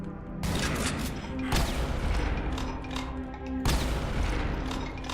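Shotguns firing in Brutal Doom 64 give three heavy, booming blasts spaced a second or two apart, each followed by a roaring, crashing wash of game noise that stays loud between shots.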